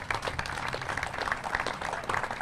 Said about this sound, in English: Round of applause for Park Commissioners.